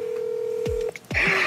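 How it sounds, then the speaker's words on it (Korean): A telephone is dialed for a call: a steady keypad tone is followed by short clicks and then another brief dialing tone, loud and close with no talking. "직접 좀 전화를 돌려주십시오"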